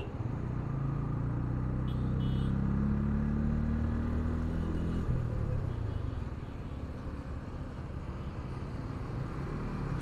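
A TVS motorcycle accelerating on a road, a low engine rumble rising in pitch over the first few seconds before settling into a steady drone, heard from the rider's position with heavy wind noise.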